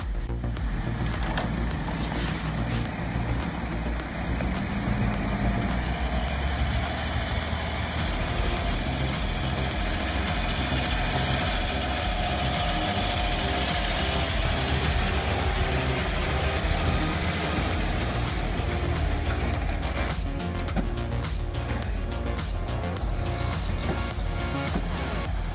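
A heavy truck drives along a forest road with a steady, loud engine drone and road rumble that holds for about 25 seconds. Faint rhythmic ticks run through the noise, and no one speaks.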